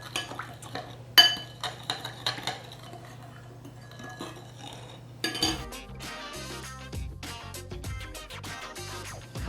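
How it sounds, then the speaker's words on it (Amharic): Sulso, a traditional Ethiopian dish, is stirred in a pot with a utensil. Scattered clinks and scrapes against the metal come first, then a denser, steady run of scraping stirs, close and clear. "እለውሳለሁ በደንብ አድርጌ።"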